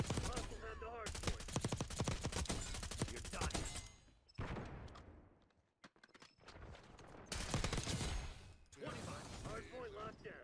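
Suppressed GPR 91 rifle in Black Ops 6 fires in rapid bursts of close, clattering shots, separated by short pauses and a near-silent gap.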